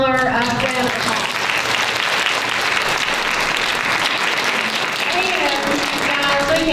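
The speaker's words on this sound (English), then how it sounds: "I think we should give Dr. Miller a round of applause." Sustained audience applause follows a health talk, steady and dense throughout with brief voices mixed in near the start and end.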